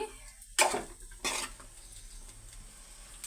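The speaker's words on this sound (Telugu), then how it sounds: "రైసు మనం వేసుకున్న మగ్గిన పేస్ట్ కూడా చక్కగా కలుపుకోవాలి" A spoon stirs carrot rice mixed with cooked paste in a pan, giving two distinct scraping clinks against the metal, close and fairly quiet, with a soft background hiss and no talk.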